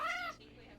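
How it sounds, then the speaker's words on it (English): Cat yowling while being bathed, one brief drawn-out wailing meow that cuts off into quiet background, faint overall. "it sounds like I'm murdering Ivy when I give her a bath."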